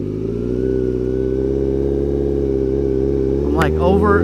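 Motorcycle engine droning steadily at night while riding among cars, a continuous mid-pitched hum with a brief rising whine near the end.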